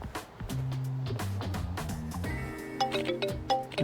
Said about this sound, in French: Ils ont tous la même sonnerie dans ce jeu